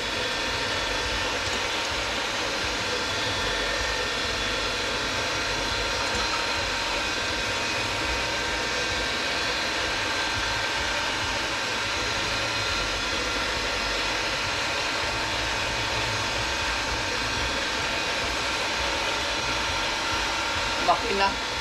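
A bangka boat engine drones steadily and loudly at close range, a constant unbroken mechanical hum that runs without pause from start to finish.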